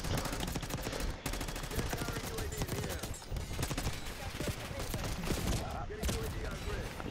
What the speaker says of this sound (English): No way, he's shooting me there.